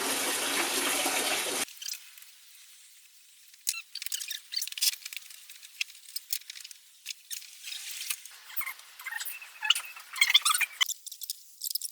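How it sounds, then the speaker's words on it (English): Coolant draining out of a Mazda RX8 radiator, a steady trickle and intermittent splashes close by after a brief louder burst at the start, with no voices. "that's the radiator draining"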